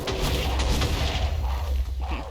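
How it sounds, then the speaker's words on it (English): A dense, continuous rumble of booming explosions from a mortar barrage in a Minecraft mob battle, loud and sustained with no clear gaps between impacts. "Mortar barrage."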